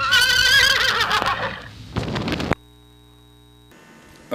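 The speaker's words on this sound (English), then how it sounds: "This is a horse." A See n' Say toy plays a recorded horse neigh, a loud harmonic whinny lasting about two seconds with a short rough tail, followed by a sudden cut to near silence and a faint electronic tone.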